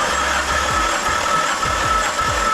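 A Nissan Laurel C33's RB25 engine cranks over during a compression test, a loud, close, continuous whirring with a rhythmic pulsing of low thumps as each cylinder comes up on compression.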